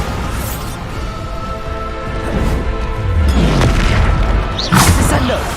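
Bombarda spell blasts in Hogwarts Legacy set off loud booming explosions with crashing impacts that swell and repeat, while a voice speaks over the din.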